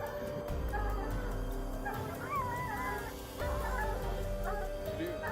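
Hunting hounds from a large pack kept for tracking wild hogs whimper, yip and bark faintly at a distance, scattered through a steady, noisy outdoor background.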